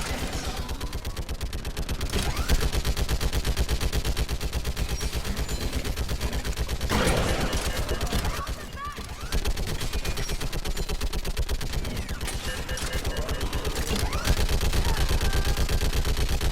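Sustained rapid gunfire in the Mass Effect 3 video game, loud and continuous, with dense bursts of automatic weapons fire and brief lulls.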